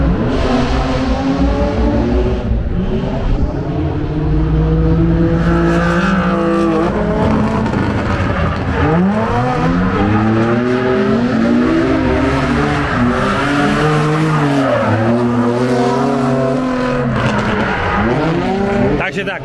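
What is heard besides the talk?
race car driving on the track at a race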